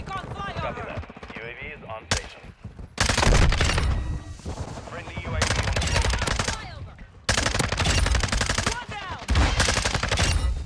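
Rapid bursts of Hurricane SMG gunfire in Modern Warfare 2 come in several long, loud strings separated by short pauses, with a player talking during the firing.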